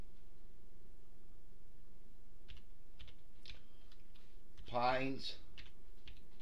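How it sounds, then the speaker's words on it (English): Soft, sparse keystrokes on a computer keyboard as text is entered in the Fallout 4 Creation Kit editor, quiet and close, with a single brief spoken word near the end. "We're going to type in Mystic"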